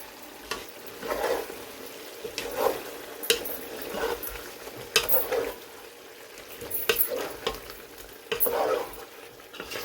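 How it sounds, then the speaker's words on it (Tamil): Repeated scraping and clinking of a spoon stirring chicken curry in a pan, with a soft sizzle underneath; strokes come every second or two, fairly close. "இதையும் போட்டு நல்லா ஒருக்கா கலந்து விடுவோம்"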